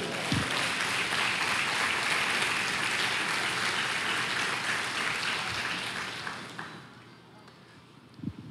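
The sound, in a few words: congregation applause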